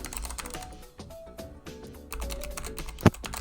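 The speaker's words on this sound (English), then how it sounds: "I'm typing this into the Star Heights Academy thing" Typing on a computer keyboard while playing Star Heights Academy, with quick irregular key clicks close by and a sharper tap near the end.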